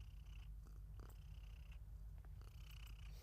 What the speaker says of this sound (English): Listen to this purr whilst I check something.